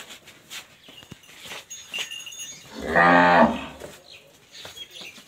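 A single long, loud lowing from a buffalo, deep and drawn out for about a second, rising out of a quiet outdoor background.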